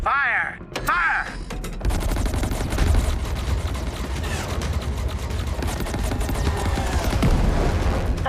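Heavy gunfire and booming impacts from a Titanfall 2 video game cutscene: continuous dense bursts of fusillade over rumbling action, loud and sustained after a short opening, with faint voices beneath.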